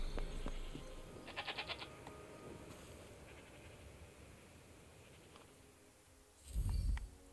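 Sheep in the game Forspoken bleat a few times over a low ambient bed, with one short bleat early and a louder rumble-like call near the end, all without talk.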